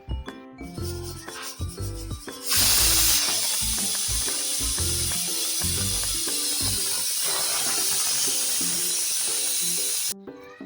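A pressure cooker cooking chickpeas for usal rattles and clicks rhythmically, then bursts into a loud, sustained steam whistle that hisses steadily for several seconds before cutting off abruptly.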